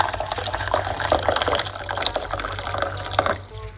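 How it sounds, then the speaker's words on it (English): Hot water from a kettle is poured into a large cup to make parsley and lemon tea, a close, continuous gurgling stream lasting about three seconds before it stops. "1 large cups of water, hot water from my kettle."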